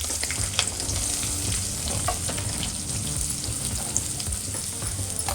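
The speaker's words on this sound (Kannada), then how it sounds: "ಈರುಳ್ಳಿ ಕರ್ಬೇವಿನ ಸೊಪ್ಪನ್ನ ಈಗ ಒಗ್ಗರಣೆಗೆ ಹಾಕ್ತಾ ಇದ್ದೀನಿ." Chopped onion and curry leaves sizzling in hot oil for a South Indian tempering, a dense, steady crackle and hiss close up with no voices.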